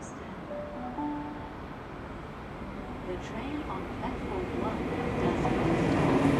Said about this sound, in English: 42105 is now seen passing through Banksia Station heading back to Sydney.